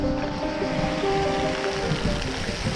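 A public water fountain in Kutaisi spraying, a continuous rushing hiss of falling water, steady and fairly close, with faint tonal background sounds.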